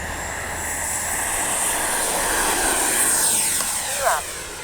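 An Arrows RC F-15 64mm twin EDF model jet spools up for takeoff with a steady, high-pitched ducted-fan whine and a broad rushing roar that holds at moderate distance, swelling briefly near the end.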